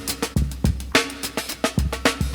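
A drum break: a tight funky groove of punchy kicks, crisp snares and busy hi-hats, loud and upfront with no voices.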